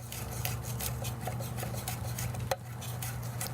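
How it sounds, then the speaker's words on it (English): A knife mincing ingredients for ceviche on a cutting board, heard as a run of light, quick taps and scrapes at close range, with one sharper knock near the end. "We just mince it down."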